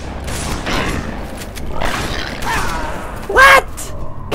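Shotgun blasts in the sci-fi shooter Halo 2, several loud booming shots spaced irregularly amid battle noise, ending with a sharp, bright burst near the close.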